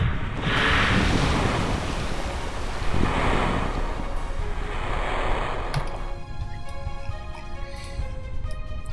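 A capsule splashes down in the ocean in Kerbal Space Program, heard as a broad rushing wash of surf and wind that swells and ebbs, with faint tonal game sounds emerging toward the end.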